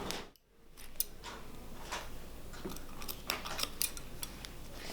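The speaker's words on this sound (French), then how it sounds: "je fais des trous avec les ciseaux" Scissors snipping holes in a pair of overalls, a series of faint, close, crisp metallic clicks and cuts scattered irregularly over quiet background.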